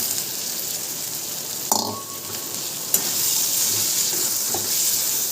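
Broken Maggi noodles hitting a hot kadhai and sizzling steadily, with a few sharp clatters of the pan or spoon over a continuous frying hiss.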